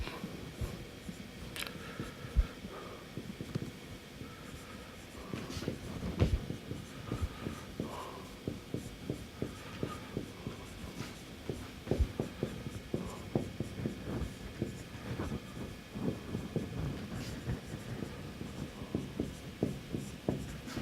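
Pen or marker scratching across a surface while writing out a math equation by hand, a steady run of short close strokes and taps with faint room hiss, no talk.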